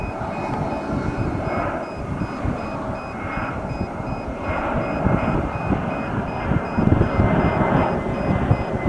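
A fixed-wing airplane comes in to land against a gusty wind near Communications Hill in San Jose, California, its engine drone steady and fairly loud, with rumbling wind buffeting underneath and no talking.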